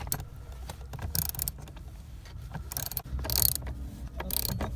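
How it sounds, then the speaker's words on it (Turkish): Repeated ratcheting clicks in short bursts from a ratchet wrench tightening hose clamps on a Honda Civic heater core, close up, with pauses between rounds of tightening and faint mechanical clatter. "kelepçeleri mümkünse cırcır anahtarla çok sıkı bir şekilde"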